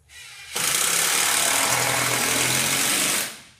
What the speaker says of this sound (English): we'll go ahead and screw it in right here